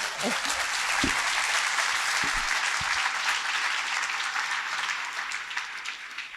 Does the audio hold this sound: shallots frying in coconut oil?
no